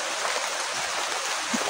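Heavy rain pours steadily at night in a rural Filipino setting, a dense continuous hiss of falling water with no gaps, fairly close and even throughout.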